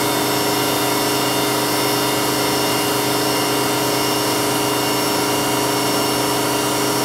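A Tree Journeyman 425 knee mill spindle spins at its 6000 RPM maximum after warm-up, making a constant loud machine whine with steady tonal hum throughout and no pauses.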